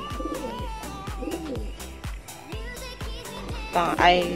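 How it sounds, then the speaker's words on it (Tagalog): Racing pigeons coo softly and repeatedly nearby as they return from a winter training race, with sharp clicking taps at a steady rhythm throughout. "Ito po mga kalapati, kakadating lang."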